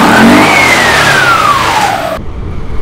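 A Yamaha Aerox 155 scooter with an upgraded CVT, 1000 rpm clutch springs and 12 g flyballs, revs loudly up to a high pitch and holds it, the whine slowly falling as it eases off before cutting out near the end.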